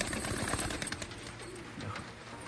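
Domestic pigeons with feathered feet, kept at home, give low soft cooing calls, close by but partly masked by steady background noise and handling sounds through the short stretch.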